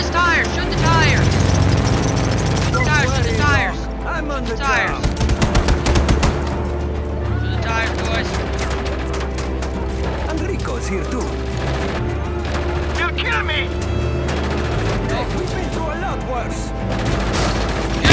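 Shots are fired at a car's tires during a Just Cause 3 chase, with bursts of rapid gunfire over a loud engine and vehicle roar, continuing in clusters across a long stretch while someone shouts over the action.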